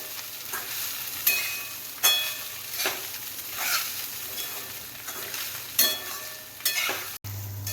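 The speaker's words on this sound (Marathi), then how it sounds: "हे पोहे हलवून घ्यायचे" Flattened rice (pohe) being stirred in a pan, with a soft continuous sizzle broken by repeated scraping strokes of a spoon at an irregular rhythm, close and moderately quiet, with no talking.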